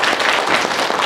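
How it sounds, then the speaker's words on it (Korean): An audience at an academic seminar marking a senior welfare center's 20th anniversary claps steadily and densely, loud and continuous throughout, with no voices over it. "수고해주신 정순철 교수님, 윤호정 회장님, 김춘남 박사님께 다시 한번 큰 박수 부탁드립니다."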